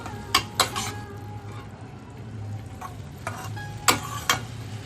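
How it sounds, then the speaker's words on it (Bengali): Banana flower sautéed with spices and soaked chickpeas in a pan over medium flame, with a low simmering sizzle under sharp metallic clinks and scrapes of a spoon stirring against the pan. "এবার মশলা সহ মোচাটাকে ভালোভাবে কষিয়ে নেব"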